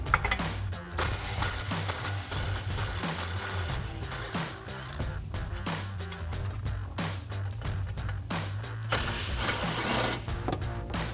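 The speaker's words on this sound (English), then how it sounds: "So I'm using that same 13mm socket with an extension." Rapid, loud rattling bursts of an impact tool driving a 13mm socket on an extension against exhaust hanger bolts under a 2024 Mustang GT, clattering almost continuously with brief gaps.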